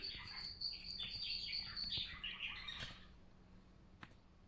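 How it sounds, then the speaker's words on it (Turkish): Faint, high chirps and squawky tweets from a small bird flutter in and out over low background noise. "Kuş da benimle beraber konuşuyor farkındaysanız."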